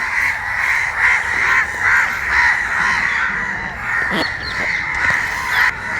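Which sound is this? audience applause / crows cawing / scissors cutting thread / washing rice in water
crows cawing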